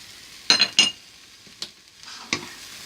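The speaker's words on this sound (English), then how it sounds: "I'm going to put our garlic in now as well" Garlic goes into a pan for spinach, chicken and bacon pasta, with a soft, faint frying sizzle under a few sharp clinks and scrapes of a utensil stirring against the pan, close by and without talking.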